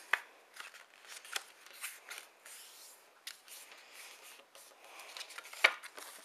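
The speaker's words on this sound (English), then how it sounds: "And then turn it and fold it in half again." A sheet of paper is folded in half again for a foldout Valentine card, making soft rustling and creasing sounds up close, with a few sharper crinkles.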